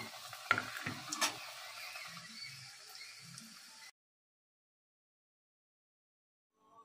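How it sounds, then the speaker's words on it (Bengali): Pumpkin leaf fritters sizzle and crackle in oil over low heat, a steady close frying hiss with a few louder pops and stirring scrapes, ending abruptly in silence. "হালকা হিটে এইভাবে ভেজে নিতে হবে সবগুলো।"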